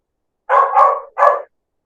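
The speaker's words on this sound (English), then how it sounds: "That's not my dog." A single dog gives three quick, loud barks close by, the first two running together and the third after a brief pause, with silence around them.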